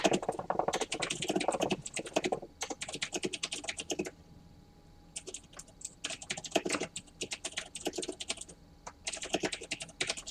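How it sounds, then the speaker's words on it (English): Rapid typing on a mechanical keyboard during a gaming stream, close and crisp bursts of clacking keys separated by short quiet gaps. "Aren't you glad you chose a mechanical keyboard when you started streaming?"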